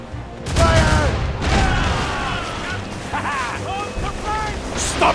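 Ship cannons firing in a naval battle in Assassin's Creed Rogue, heavy booming blasts over wind and sea noise, with shouting voices of the crew mixed in.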